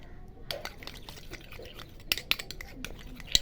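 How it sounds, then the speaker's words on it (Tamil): A spoon stirs a green gram, rose water, curd and turmeric face pack in a bowl, giving soft, steady scraping and a few sharp, close clinks near the end. "நல்லா மிக்ஸ் பண்ணிக்கணும்."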